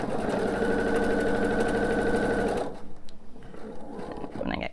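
A sewing machine runs steadily for a few seconds, stitching pieced quilt top fabric, then stops, leaving quieter handling noises.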